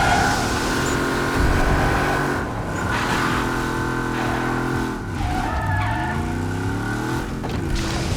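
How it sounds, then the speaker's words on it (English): Tires scrub and squeal in a long slide as a car drifts in the Wreckreation racing game, the engine droning steadily underneath with pitch shifts as it revs through the turn, loud and close throughout. "And now you drift."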